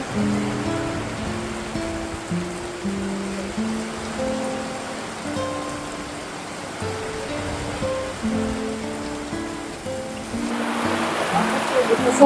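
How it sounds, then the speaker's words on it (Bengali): A sudden heavy downpour hits the beach by the sea in Goa, a dense, steady hiss of rain with faint voices murmuring underneath. "হঠাৎ করে প্রচন্ড বৃষ্টি নেমে গেল"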